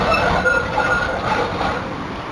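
Train at Richmond station in Melbourne, a loud, steady rumble of rolling carriages close by with a continuous high-pitched wheel whine running through it, no talk.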